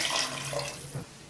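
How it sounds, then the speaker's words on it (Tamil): Water is poured into vegetable kurma in a pan, a short, soft rushing splash that tapers off within about a second. "இது கூடவே நம்ம வந்து 1/2 கப்பு தண்ணி சேர்த்துக்கலாம்."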